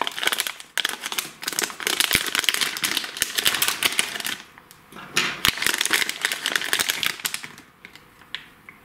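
A plastic packaging bag from an Aliexpress electronics parcel crinkles and rustles up close as it is handled and opened, in dense crackling bursts with two short pauses between them.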